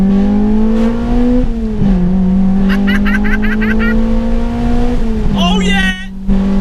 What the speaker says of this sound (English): I love a good bit of VTEC.